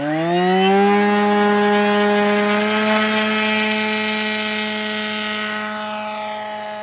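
The small engine of a model Kolb Firestar aircraft runs a couple of clicks above half throttle, giving a loud, steady, buzzing drone close by that eases slightly toward the end.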